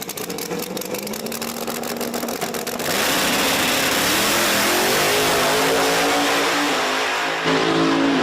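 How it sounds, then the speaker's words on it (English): At a drag strip, a Chevrolet Nova and a Ford Fox Body Mustang launch side by side. Loud engines rise in a rising roar that builds and holds, with high crackling exhaust and no talk. "Mr. Batista there in the right lane driving the Nova going up against the Fox Body group here in the left lane"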